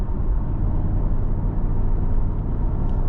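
A Mercedes-AMG GT 63 Pro driven through a corner in Sport Plus mode in second gear, its engine a steady deep rumble heard from inside the cabin, dense and continuous with road noise.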